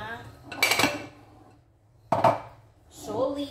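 Banana cake ingredients are stirred and scraped in a bowl, giving two loud bursts of clattering utensil-on-bowl contact with a quieter scrape at the end, close and with no talk over it.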